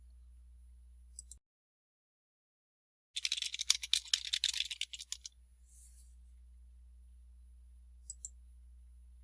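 A computer mouse clicks rapidly while a web page is edited, a quick burst of crisp, close clicks in the middle of the clip, with a few single clicks before and after over a faint hum.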